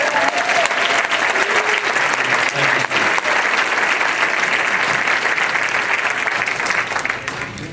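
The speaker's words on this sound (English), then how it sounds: "You're all very, very kind, and I appreciate that applause." Sustained audience applause at a rally, a dense wash of many hands clapping loudly and steadily throughout, easing slightly at the very end.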